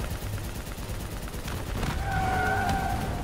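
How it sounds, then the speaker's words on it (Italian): Machine gun fire in the video game Call of Duty Black Ops 3, a dense rattling burst of gunfire with explosions and game noise, not very loud. "Finché va la mitragliatrice non c'è problema!"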